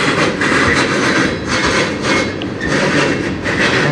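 A CN freight train rolls past at night on the Strathroy Subdivision, a loud, steady roar of railcars with rhythmic clickety-clack from the wheels, close by and continuous with no voices.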